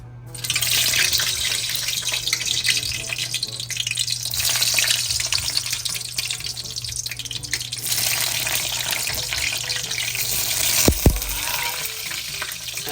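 Eggplant and okra frying in a pan, a loud, continuous sizzling hiss close by that holds steady throughout, broken by a brief knock near the end.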